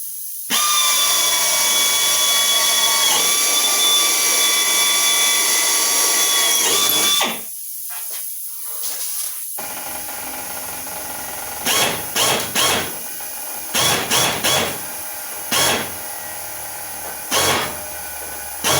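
A drill bores a hole through the metal belly pan of an Avro Speedster, with a loud, steady whine lasting about seven seconds, then stopping. Quieter clicks and handling taps follow nearby.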